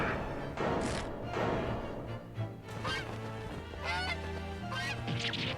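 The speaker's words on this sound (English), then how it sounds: "Wait, she dropped the chicken." A chicken squawks and clucks in harsh honking bursts in the video game The Great Ace Attorney Chronicles, loud and close, set over background game music with several flurries of flapping noise.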